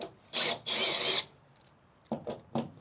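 A power drill backs screws out of aluminum siding on a mining trailer build, with two sustained whirring runs followed by three short bursts, close and fairly loud.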